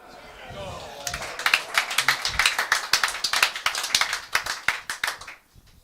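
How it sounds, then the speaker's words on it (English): Spectators clapping at a real tennis National League Premier Division final, a moderate round of sharp, distinct handclaps building after a moment and then thinning out near the end, with faint talk beneath. "Warm In applause."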